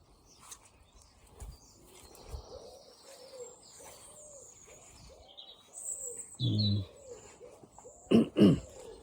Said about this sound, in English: That pigeon you can hear in the background, Uncle Sam that is.